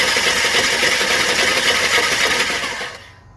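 A Dodge Ram 1500 with a Hemi V8 cranks over on its starter, a loud, steady mechanical whirring close by that runs unbroken for several seconds, then cuts off and fades to quiet.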